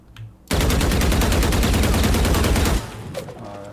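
Sustained automatic rifle spray in Valorant, a loud, rapid, unbroken burst of shots lasting about two seconds with no recoil control, then cutting off to quieter game ambience.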